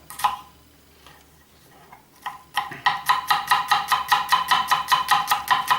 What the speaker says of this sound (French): Un petit oignon ciselé rapidement comme ça.